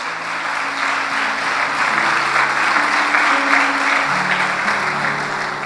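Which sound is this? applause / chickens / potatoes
applause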